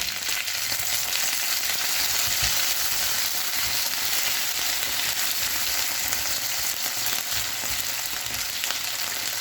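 Potatoes fry in a pan with a steady, loud sizzling hiss throughout, broken by occasional soft scrapes as they are stirred.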